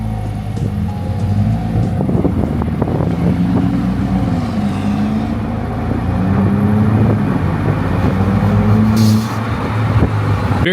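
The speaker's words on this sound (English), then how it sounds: "I like those intake noises as well." Steady loud engine drone from a modified Mercedes-Benz car, with intake noise and low rumbling tones rising and falling continuously throughout, no talking.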